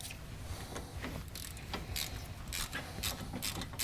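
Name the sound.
ratchet tightening brake caliper bolts on a car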